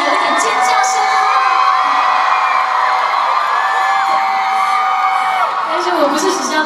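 An audience at an outdoor concert in a Taichung amphitheater screams and cheers in a dense, continuous roar of shrill whoops and yells that lasts for several seconds.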